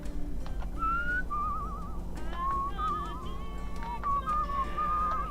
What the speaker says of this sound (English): If absolutely nothing else about this game sticks with me, this fucking whistle song absolutely will.